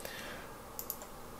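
Two quick, faint computer mouse clicks form a double-click, made while working in Visual Basic .NET, heard close together over a soft background hiss.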